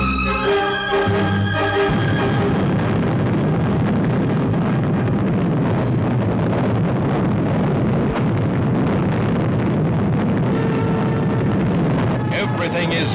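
An Atlas rocket lifts the Mercury Friendship 7 capsule off the pad with a steady, heavy roar that rumbles on without a break, while a narrator speaks over it.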